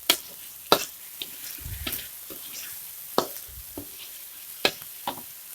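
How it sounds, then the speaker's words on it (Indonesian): Sweet soy sauce sizzling in a pan for Indonesian fried rice while being stirred, with a faint steady hiss broken by irregular sharp clicks and scrapes of a spatula against the pan, close and quiet. "Sengaja saya tumis kecapnya."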